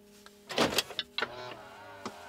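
A Land Rover's locking mechanism whirs and clunks nearby as it locks with a newly programmed key fob, a short burst of motorized clicks followed by a couple of quieter thuds.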